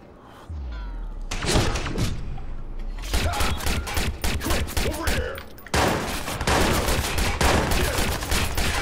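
Rapid bursts of automatic gunfire and heavy impacts fill a Watch Dogs firefight, loud and close, firing in long clattering volleys with brief pauses, while a voice talks in between.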